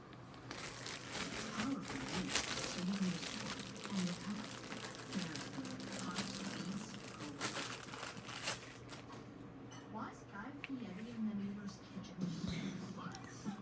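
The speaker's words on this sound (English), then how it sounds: "Let me take it out of the plastic so y'all can see it." A battery pack is pulled out of plastic packaging with a run of close crinkling and rustling of plastic, steady for most of the stretch and fading toward the end, while a low voice murmurs faintly underneath.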